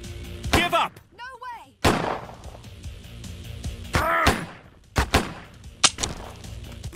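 Gunshots in Autobahn Police Simulator 3 ring out as several sharp, separate reports, with quieter rumbling between them and voices heard in the background.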